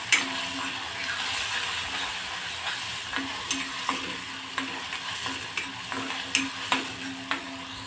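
Ground ginger, garlic and tomato paste fries in oil for a dhaba-style soybean chunk curry, with a steady close sizzle broken by repeated scraping stirs and light spoon taps.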